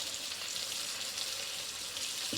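Fish sizzling steadily in a hot frying pan, a continuous close hiss and crackle with no talk over it.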